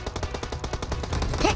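Rapid automatic gunfire in the PUBG Mobile video game: a continuous, evenly spaced burst of close shots with no talking.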